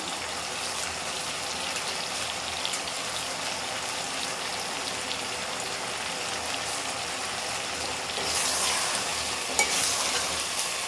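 Vegetables for prawn curry, including onion, tomato, drumstick, brinjal and potato, are stirred and sautéed in a pan. A steady close sizzle runs throughout, swelling louder near the end as the spoon turns the mix, with scattered clinks.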